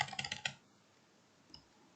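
Computer keyboard typing during an HTML coding lesson: a quick burst of several close keystrokes in the first half second, then near quiet with one faint click later.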